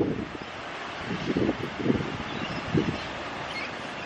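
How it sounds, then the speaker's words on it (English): Outdoor wind, a steady broadband rush buffeting the microphone with a few gusty swells over about four seconds. "It's very windy today."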